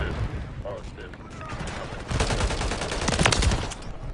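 Rapid bursts of automatic gunfire in a video game shootout, moderately loud and growing denser and heavier in the second half, with muffled voices underneath.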